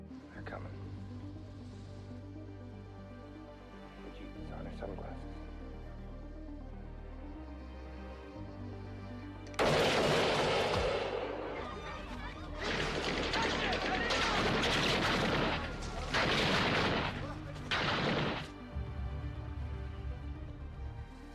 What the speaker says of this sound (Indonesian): Saat itu juga, Thomas melepaskan tembakan